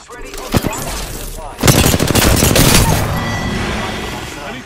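Bursts of gunfire in Apex Legends: a few sharp shots early, then a sustained loud volley of rapid automatic fire with dense crackling impacts that keeps going to the end.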